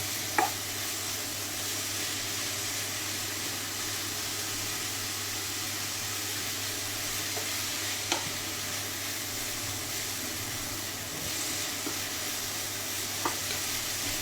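Grated carrot frying in ghee for carrot halwa, stirred in a pan over reduced heat: a steady close sizzle with a few soft scrapes of the spoon, and no voices.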